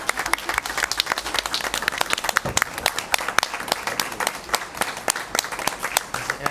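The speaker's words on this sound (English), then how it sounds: "Let's have the applause first." A round of applause from the audience at a school board meeting honoring an education award recipient, with lively, dense clapping and distinct sharp claps continuing steadily throughout.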